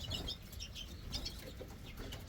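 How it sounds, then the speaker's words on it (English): Greenfinches in a birdroom pen chirp and twitter in short bright bursts throughout, fairly close and faint over a steady background hiss, with no talking. "Down on the very left hand pen is my pair of green finches."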